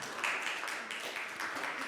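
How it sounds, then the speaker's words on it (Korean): Sunday worship congregation at NAZAZiM Church giving a short burst of applause. The clapping is faint and distant, with slight rises and falls. "우리 함께 박수 한번 주시죠."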